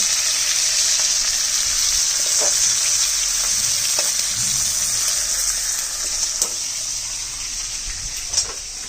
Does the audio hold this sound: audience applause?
no